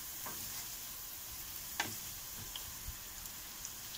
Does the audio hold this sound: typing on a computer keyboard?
no